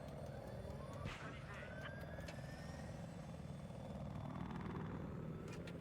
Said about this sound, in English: Attack helicopter?